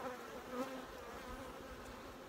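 Honeybees swarm an open hive during a honey harvest, giving a dense, steady buzzing drone that fills the whole stretch without pause and with no voices.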